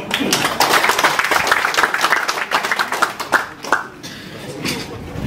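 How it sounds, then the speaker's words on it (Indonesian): Audience applause at an official visit by a regent and vice regent in Teluk Wondama and a health centre inauguration, loud close clapping from many hands that swells, then thins into scattered claps and fades. "mari kita berikan tepuk tangan"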